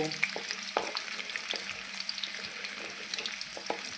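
Garlic pieces fry in hot oil until reddish for an okra stir-fry, giving a soft continuous sizzle broken by occasional light clinks and scrapes of a spoon in the pan.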